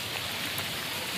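Heavy stormy rain pours down in Behal with wind, a steady dense hiss filling the whole moment, loud and close with no voices.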